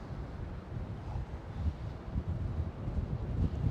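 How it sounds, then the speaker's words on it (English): Wind gusts outdoors at Schiphol Amsterdam airport, buffeting the microphone as a steady low rumbling roar that swells and eases. "I didn't know it was gonna be windy."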